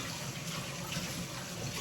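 Tap water runs steadily into a cooking pot for soup, a continuous close rushing splash of moderate loudness with no voices over it.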